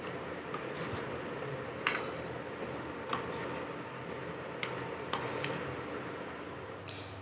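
Paneer pieces are mixed by hand into a gram flour batter, giving soft, wet rubbing and squishing with a few sharp light clicks against the bowl, faint and close, with no talking.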